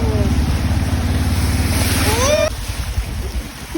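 Water sloshing and washing around on a street flooded by the Remal cyclone storm in Kolkata, heard from a moving bike in rain, with steady broadband wash and a voice talking over it.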